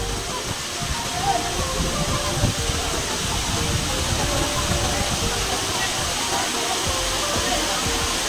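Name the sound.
rushing water at Tinago Falls waterfall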